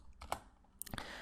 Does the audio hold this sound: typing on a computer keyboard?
yes